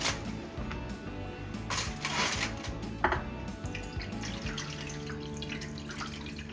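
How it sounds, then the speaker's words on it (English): Water is poured into a small baking pan to make a water bath for a caramel flan, giving a continuous splashing, trickling stream with a few metallic clinks, close and steady. "I'll put it here, then add some water"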